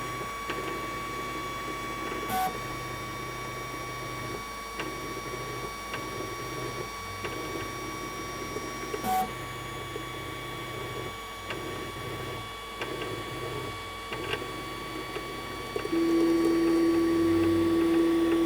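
A 3D printer finishes its automatic bed-levelling routine with quiet stepper motor movements and soft ticks repeating at regular intervals, then a louder sustained motor hum starts near the end.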